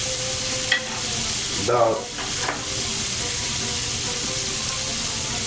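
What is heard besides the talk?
garlic sizzling while stirred in a pan for shrimp soup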